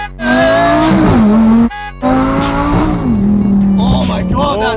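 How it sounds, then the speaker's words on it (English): A Lamborghini Huracan supercar launches hard with its launch control, its engine revving loud and close as it climbs through gears with short shift breaks, while excited voices shout over it. "Let's hear launch control."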